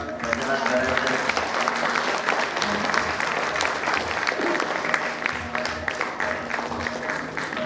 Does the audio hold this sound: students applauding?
yes